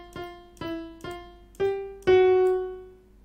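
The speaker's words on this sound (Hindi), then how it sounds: "लेकिन अगर सी का नोट में मैं अगर कोई भी ब्लैक नोट बीच में अगर बजाऊंगा" Five software piano notes played in FL Studio, a black key mixed in among C-scale notes, struck in a steady row with the last two louder and the final one ringing longest, no voices.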